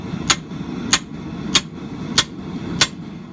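Hammer blows on a steel drift, reshaping the distorted eye of a hammer head forged from a ball peen hammer: five sharp metallic strikes at an even, steady pace, close and clear over low workshop rumble.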